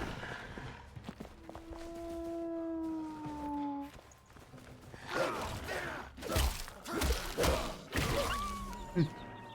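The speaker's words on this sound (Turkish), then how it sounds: "Hele şükür şu hırlamadan kurtulduk." Wolves in the fantasy survival game Enshrouded, growling with a rising, wavering howl, followed by scuffling footsteps and sharp thuds of combat, moderately loud with no talk over it.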